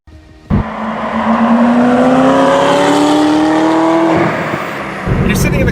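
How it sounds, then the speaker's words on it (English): A Chevrolet Corvette ZR1 launches hard after a sharp start, its engine note climbing steadily through a long loud pull before a gear change, then surging again; very close and powerful, with voices heard around it. "all of a sudden you put your foot down and you are seriously in exotic car territory"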